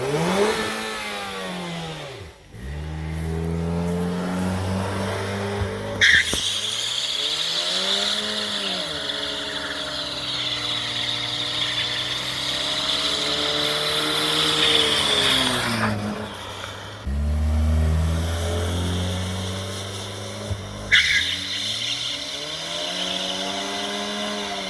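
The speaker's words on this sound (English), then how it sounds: "do some burnouts with it" Dodge car doing burnouts, engine revving hard and tires skidding in long sustained bursts, loud and close, with brief drops between runs.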